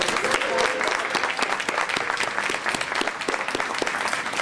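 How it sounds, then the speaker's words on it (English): An audience at a Law Day event claps steadily for the students, a dense, sustained round of applause heard alone without talk. "just stand up so we can applaud you"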